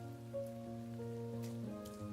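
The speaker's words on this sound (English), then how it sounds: "Schedule disrupted by the sudden rain, he begins to look for a place to take cover from the rain." Steady rain pours down in a video game scene, a continuous hiss of falling drops under sustained musical tones, with no speech.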